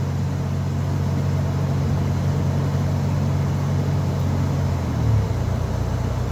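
Car with a 4L60E automatic transmission cruising in fourth gear, a steady low engine drone and rumble held constant throughout, with a slight shift in tone near the end.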